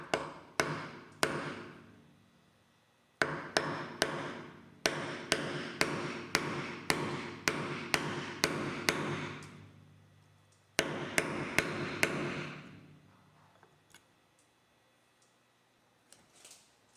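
A wooden mallet drives a chisel to chop mortises for workbench legs, landing sharp, close, ringing blows in steady bursts of about eight to ten strikes, with short pauses between groups and no talking.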